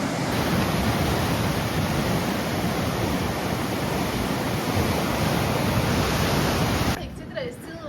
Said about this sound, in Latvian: Pēkšņi atbraucām uz okeānu.